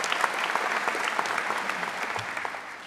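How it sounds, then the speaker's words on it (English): An audience at a medical school white coat ceremony breaks into sustained applause, a full, even roar of clapping that eases off slightly at the end. "Round of applause for KCU Joplin."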